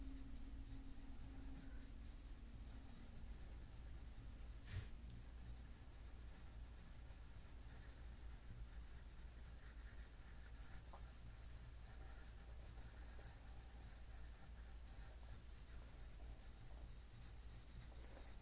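Pencil on paper in controlled scribbling strokes, scumbling shading: a faint, continuous close-up scratching and rubbing, steady for a long stretch with no talking.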